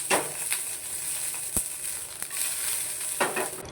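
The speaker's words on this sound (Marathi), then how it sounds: "आता थोड्या मिरच्या भाजून घेते. मिरच्या भाजताना थोडंसं तेल टाकते मी त्याच्यात" Green chillies roast in a little oil in a pan, giving a steady, fairly quiet sizzle close by with a few sharp crackles and pops scattered through it.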